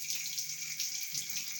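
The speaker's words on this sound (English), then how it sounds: "As the water is flowing, as the water goes down, goes up" Water rushing steadily through a mini hydro generator turbine under low pressure, a constant bright hiss with a faint low hum beneath, close and unbroken, without speech.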